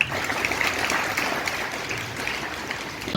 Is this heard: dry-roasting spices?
no